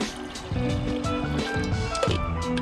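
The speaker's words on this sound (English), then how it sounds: "We'll go ahead and throw a little bit of water in here." Water pours and trickles into a cooking pot set on a backpacking stove with a chimney-style burner, a close, steady fill.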